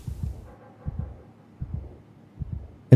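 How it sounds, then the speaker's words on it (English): Heartbeat from the horror video game Soma, a soft, low lub-dub repeating steadily about four times, with a brief louder noise at the very end. "It started with a heartbeat as well."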